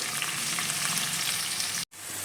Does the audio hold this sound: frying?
yes